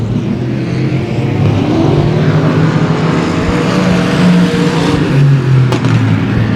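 Race car running a dirt-track heat race at a speedway, a loud, continuous engine roar holding steady with rising and falling pitch as it pushes around the oval.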